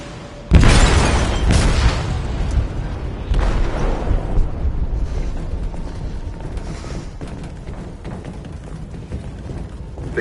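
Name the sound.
explosion on a sinking ship, from a video game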